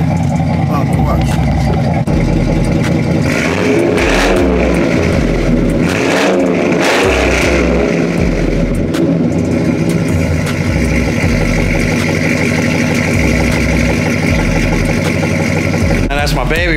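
A Chevy Trailblazer SS with a 6.0 LS2 V8 rumbles at idle, then revs up and down in several swells before settling back, loud and close, with no talk over it.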